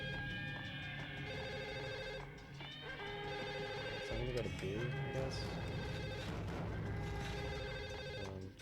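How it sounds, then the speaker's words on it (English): Telephones ring repeatedly in the Max Payne video game, a steady trilling bell running under someone talking and other in-game sounds. "I keep hearing phones ringing,"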